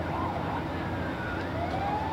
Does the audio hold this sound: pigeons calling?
no